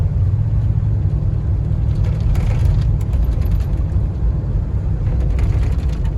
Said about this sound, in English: you get wind noise in here